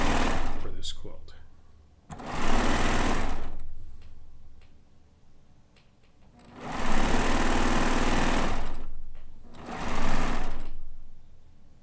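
A sewing machine stitching quilt blocks runs in three loud, close bursts of steady mechanical whirring, each lasting one to three seconds, separated by quieter pauses with faint handling noise.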